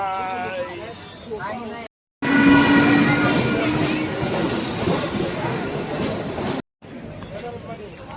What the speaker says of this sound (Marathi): आपण पोचलो आणि ट्रेन पळून गेली.